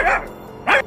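A dog barks loudly twice, close by, with a short gap between the sharp barks, in a story scene where it scares off a thief.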